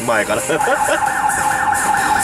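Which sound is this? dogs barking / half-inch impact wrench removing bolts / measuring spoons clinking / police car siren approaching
police car siren approaching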